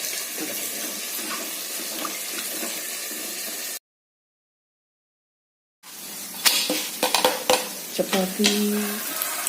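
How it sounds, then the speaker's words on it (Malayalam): Chicken frying in a pan as water in it crackles and spits, a steady broadband sizzle that cuts out to silence for about two seconds, then returns with sharper pops and a few metallic clinks. "ചിക്കൻ ഫ്രൈ വെള്ളമൊക്കെ പൊട്ടിച്ചുകൊണ്ടിരിക്കുന്നു"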